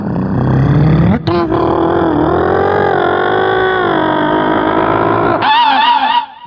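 A voice imitates an auto rickshaw driving along: a loud, close, continuous engine drone that rises in pitch, holds steady, breaks briefly, then ends on a higher wavering whine.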